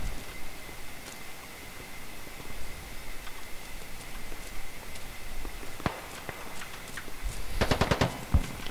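Scattered sharp gunshot cracks, mostly distant, building into a quick burst of rapid fire near the end over a steady background hum, enemy fire in the video game Squad on the Al Basrah map.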